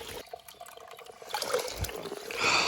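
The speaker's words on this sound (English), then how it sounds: "Look at this great little water spring." A small mountain water spring on a solo hiking trail trickles and splashes softly close by, the liquid gurgle growing fuller toward the end.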